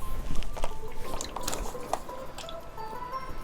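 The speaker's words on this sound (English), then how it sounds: "Refill it with some water really fast." Water poured quickly into a small container while refilling it during arachnid enclosure care, quiet splashing and trickling with a few drips and soft handling knocks close by.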